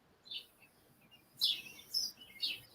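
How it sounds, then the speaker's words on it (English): Small birds chirp outdoors near a doorway on a quiet morning, bursts of tweets a few seconds apart, fairly faint and mid-distance, with no talk over them. "You hear all those birds?"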